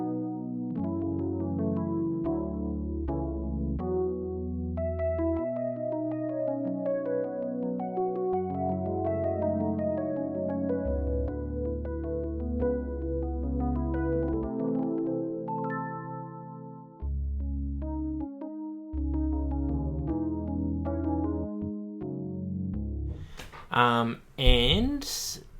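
Layered digital piano voice played on a keyboard, sustained chords and melody lines ringing continuously for over twenty seconds, with a brief busier flourish near the end.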